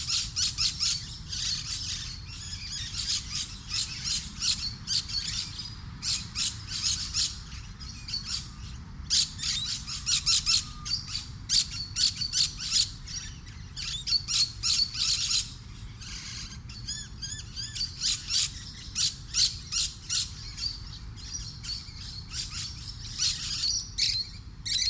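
Musk lorikeets feeding in a treetop, giving rapid, shrill squawks and chattering calls in dense, overlapping bursts, moderately close with brief pauses between flurries.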